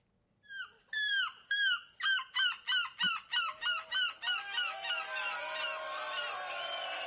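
A person imitates seagull screeching in a European seagull-calling competition: a rapid series of about a dozen loud, rising-and-falling squawks that quicken and blur into a sustained shrill wail, with no talking.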